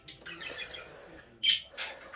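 A small male pet bird chirps and squawks indoors in short, scratchy bursts, with a couple of louder, sharper calls standing out against a quiet room.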